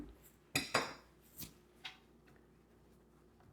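A spoon stirs potato cheddar chowder in a metal pot, giving a few sharp clinks and scrapes against the rim in quick irregular bursts, close and fairly quiet, with gaps of near silence between them.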